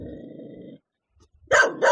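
A village dog at its kennel gives a low, rumbling growl, falls silent briefly, then lets out two loud, close barks.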